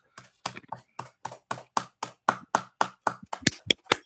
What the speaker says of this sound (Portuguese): E uma salva de palmas a Jesus,